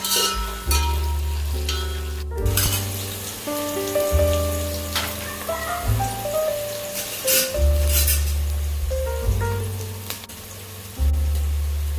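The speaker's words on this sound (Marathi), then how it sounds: "1-2 ते 3 तमालपत्र, हिरवी मिरची आणि कांदा लालसर असा भाजून घेणार आहोत।" Bay leaves, green chili and onion fry in a pan for mutton biryani, a continuous sizzle with occasional stirring clatter under steady background music.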